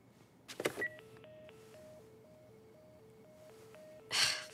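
A dead telephone being dialed in the video game The Last of Us Part I gives a steady, evenly spaced run of short electronic beeps. A soft rustle comes near the start and a louder burst at the end.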